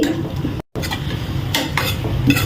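Potato and tomato curry being stirred in a pan, with scraping and clinking of a spoon against the metal and a soft sizzle underneath, briefly cut to silence partway through.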